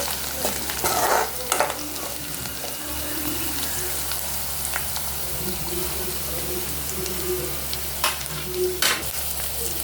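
Sweet corn frying in a pan is stirred now and then, soft scraping and light sizzle over a constant low hum, with a few louder scrapes near the start and end.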